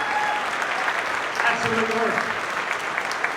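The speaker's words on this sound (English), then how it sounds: "Another round of applause, please." A crowd at a county address applauds steadily for a high school step team, dense even clapping throughout while a voice speaks briefly over it.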